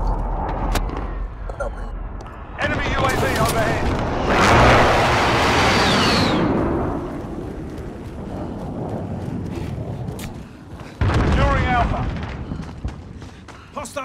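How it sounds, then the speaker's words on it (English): Precision airstrike in Call of Duty Modern Warfare multiplayer: a loud booming blast with a long rushing roar that fades, then a second sharp burst later, set over steady game background noise. "Enemy precision airstrike."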